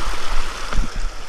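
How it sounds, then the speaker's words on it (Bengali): Snowmelt water from a mountain stream runs beside a wooden house on a hillside in a Pashtun village in Pakistan, a loud close rushing with gurgles. "আর পানি আসতেছে, বরফের পানি।"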